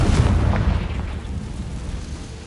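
Deep booming blast from the Confringo spell in a Harry Potter wizard video game, loud at first then rumbling and fading over a couple of seconds.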